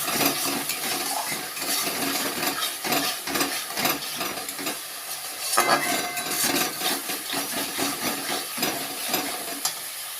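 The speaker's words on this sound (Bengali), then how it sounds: "সব মশলাগুলোকে ভালো করে একটু কষিয়ে নেব।" Turmeric, salt and Kashmiri chilli powder sautéing in a pan for a prawn, papaya and potato curry, with steady sizzling and repeated scrapes and stirs of a utensil against the pan throughout, close and fairly loud.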